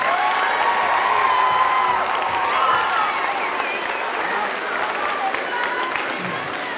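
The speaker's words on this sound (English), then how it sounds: "Give them a big round of applause." Sixth-grade students applaud their orchestra program audience at a Nashua Symphony Orchestra school concert, a sustained, bright crowd clapping with faint cheering, steady and then tapering slightly toward the end.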